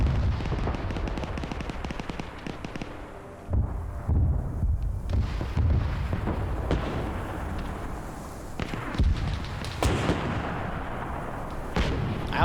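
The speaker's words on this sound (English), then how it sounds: "I also did just hear the anti-tank gunners fire here too" Anti-tank guns firing in a Vietnam-themed combat video game: heavy, booming shots and explosions land repeatedly in a dense, loud battle mix with continuous rumbling gunfire between the blasts.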